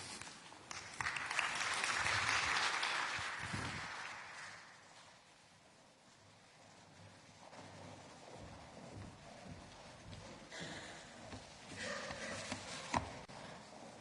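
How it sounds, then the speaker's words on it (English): Conference applause at an EU meeting on the humanitarian situation in Gaza, clapping that builds, fades around the middle and returns more sparsely, moderately distant with no speech. "I didn't deserve the applause because I'm not the Greek minister."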